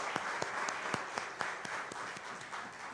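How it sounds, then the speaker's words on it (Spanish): A church congregation applauds steadily, a dense wash of hand claps with a few sharper individual claps standing out, moderately loud and close, with no voices. "démosles un aplauso a estos hermanos que todos los domingos nos acompañan aquí de una manera especial"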